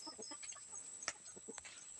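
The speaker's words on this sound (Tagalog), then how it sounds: "Guys, ito na yung mga manok." Backyard chickens in a rural Philippine yard clucking softly in short scattered calls, with one sharper squawk partway through, quiet and close against a faint steady background hum.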